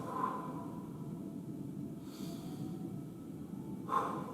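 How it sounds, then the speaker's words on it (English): Deep breathing during a hip and glute stretch, with soft steady airflow under a low room hum and two brief sharper breath bursts near the start and end. "Deep breaths."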